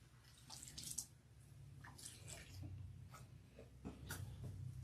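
Water splashes and drips while a child's hair is rinsed on wash day, faint and close, in irregular bursts of trickling and splashing with no talk.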